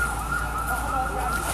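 An ambulance siren wails steadily in the distance beneath a constant roar of traffic and street noise in downtown Beirut after an explosion.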